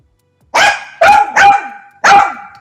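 A dog barks four times, close and loud, in a quick irregular burst of sharp barks with short gaps between them and no other sound.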